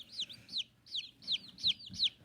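Newly hatched baby chicks in a warm brooder give a steady run of about six loud, high, falling peeps at close range, each answered by softer chirps underneath.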